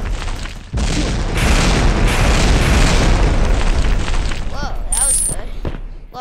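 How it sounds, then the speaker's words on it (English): Artillery strike explosions in a minigun shooter video game boom loudly and continuously, a dense rumbling barrage lasting several seconds before tapering off, with brief chirping tones near the end. "I set the artillery strike right here"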